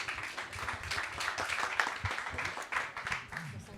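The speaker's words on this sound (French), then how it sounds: "On l'applaudit bien fort." Audience applause at a startup pitch contest, a crowd clapping loudly and continuously through the whole moment, with voices mixed in underneath.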